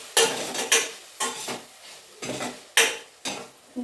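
Paneer cubes frying in a pan, heard as a spatula scraping and clinking against the metal in sharp bursts roughly every half second over a faint sizzle, close and fairly quiet.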